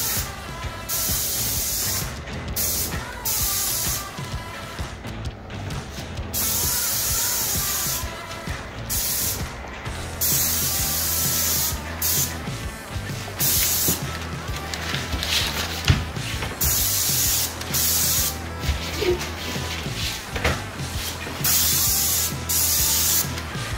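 Paint sprays out in a quick tack coat as a continuous loud hiss, broken into repeated bursts by short pauses, heard close up with light rubbing and footsteps around it.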